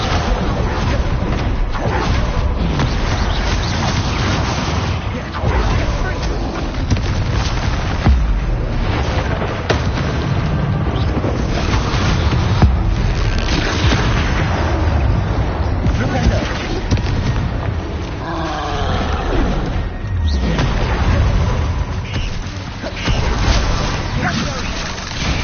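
Spell explosions in the Hogwarts Legacy wizard combat game, dense booming blasts and bursts that crowd together nonstop, loud and close, with voices calling out spells over the din.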